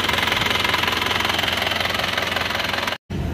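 A car engine, fitted with a custom liner repair, runs steadily on a test drive, a loud continuous rhythmic knocking drone that briefly cuts out near the end.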